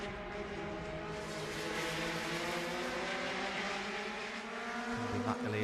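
Mazda MX-5 Cup race cars run at the Mid-Ohio Sports Car Course, their engines a faint, distant sustained drone that rises and falls slightly as they pass, with a brief low rumble near the end.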